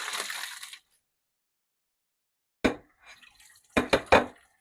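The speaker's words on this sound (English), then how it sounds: "take our pasta and our carrots that have been chilling in some cold water after they're boiled, drain them" Splashy burst of water pouring as boiled pasta and carrots are drained, then silence, followed by a few sharp clattering drips and wet knocks as the food settles in a colander.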